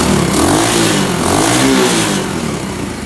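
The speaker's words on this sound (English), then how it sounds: "It's got a nice little purr out the exhaust." A small 125cc engine on a 1977 Honda CT70 motorcycle runs close by with a steady, throaty putter, swelling slightly in the middle before settling back to idle.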